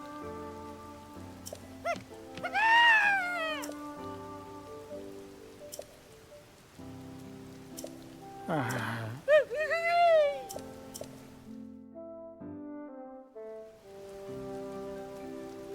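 Steady rain hisses in the video game Zelda: Tears of the Kingdom, a soft constant wash beneath game music and a voice talking.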